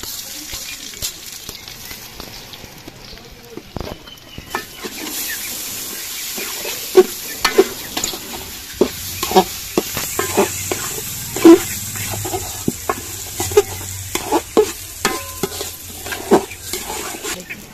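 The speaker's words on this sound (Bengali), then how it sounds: "চালটা ভাজা হয়ে গেছে" Washed rice fries in a pan for pulao, with a steady sizzle under frequent scraping stir strokes and sharp clacks of the spoon against the pan, growing busier partway through.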